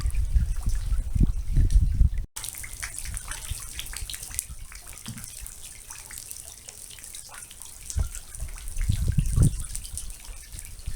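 Continuous trickling and dripping water running down a rock wall near the Colorado River, close and steady, with irregular splashes and a brief cut partway through; no one speaks.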